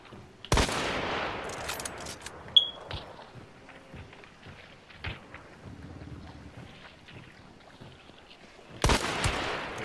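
A few sharp, loud gunshots crack in Hunt: Showdown, widely spaced among quieter ambient rustle and wind, one near the start and another near the end, without talking.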